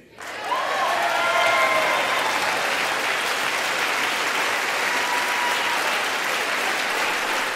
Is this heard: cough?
no